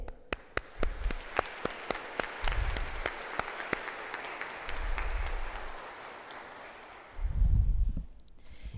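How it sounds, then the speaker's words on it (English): A commencement audience for an occupational therapy program breaks into scattered claps that build into a soft wash of applause, fairly distant, with low thumps and rustling mixed in. "I would like to give a round of applause for everybody who helped get us here today."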